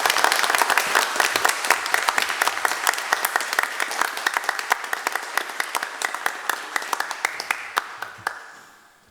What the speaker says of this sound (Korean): 우리 환영의 박수로 모시도록 하겠습니다